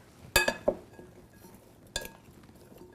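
Roasted-vegetable prep: vegetables with olive oil, salt and pepper get tossed in a bowl, giving a few sharp, close clinks of utensil against the bowl, then quiet scraping in a calm kitchen.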